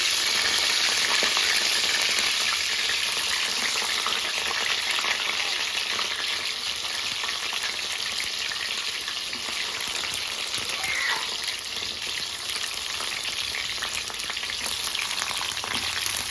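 Bitter gourd pieces frying all at once in a large kadai, a steady, dense sizzle of hot oil running unbroken and fairly close throughout, with no voices.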